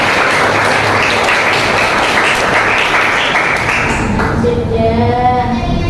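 A class of pupils claps together in a Qur'an lesson, loud and close, with dense hand claps and a few taps and thumps for about four seconds before the clapping dies away and a voice takes over.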